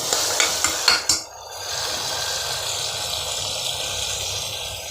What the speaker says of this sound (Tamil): நல்லா மேஷ் ஆகட்டுங்க. தக்காளி வதங்கணும்.